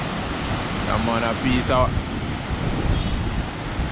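High wind roars across rough, dirty seawater under a passing cold front, a constant loud rushing broadband noise with buffeting, while someone speaks briefly over it.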